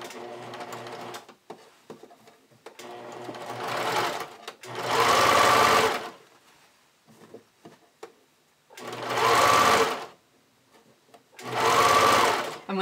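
A domestic sewing machine stitches the V neckline of an Anouk bodysuit in three loud, close bursts of stitching, with quiet pauses and some faint talk between them.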